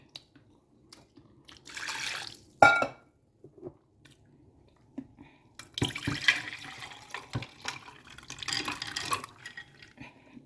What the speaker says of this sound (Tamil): இனி இதுக்கு கொஞ்சம் நல்லா தண்ணி விட்டு ஊற விடுவோம்.